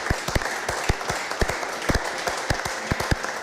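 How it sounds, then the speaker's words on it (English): Audience applause at a sports coaching program's team send-off, a crowd clapping steadily with sharp individual claps standing out close by, continuous for a few seconds. "I want to give you all a round of applause"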